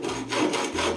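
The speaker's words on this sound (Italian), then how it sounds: "procediamo con il taglio dei profili con la sega a ferro" A hacksaw cuts through aluminium flyscreen frame profiles in steady back-and-forth strokes, a close, continuous rasping scrape with rhythmic surges as the blade pushes and pulls.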